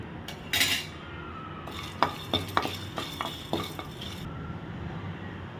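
A spoon scrapes and clinks against a pan while spices and dried chillies are dry-roasted for tamarind rice, with a few sharp metallic taps and a light rustle over quiet background.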